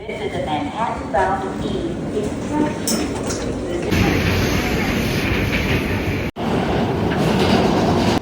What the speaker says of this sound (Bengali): ট্রেন চলে আসছে এখন সুন্দর মতো উঠে পড়বো